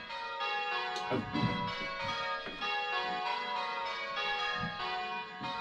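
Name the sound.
church bells rung in a bell-ringing simulator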